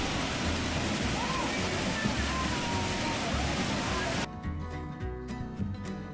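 A waterfall at a river swimming spot in Bryce Canyon, a steady, loud broadband rush of falling water that cuts to a quieter, closer water sound with faint voices.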